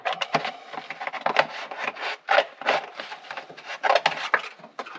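Poster board is trimmed for a transmission tunnel template for a T-56 gearbox, giving close, repeated rasping cuts and rubbing strokes in an irregular rhythm.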